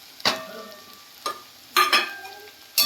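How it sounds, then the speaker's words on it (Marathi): Dalia (broken wheat) with capsicum, tomato and turmeric roasting in a pan, with a soft sizzle and four distinct scrapes of a spoon stirring against the pan at uneven intervals. "छान हलवून घ्या, भाजा चांगलं"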